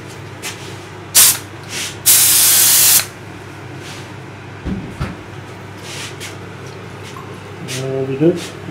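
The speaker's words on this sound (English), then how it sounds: "we spray with the activator" Activator sprayed onto hydrodipping film while coating a game controller, two bright hissing bursts, a short one then a longer sustained spray, followed by quieter handling noises.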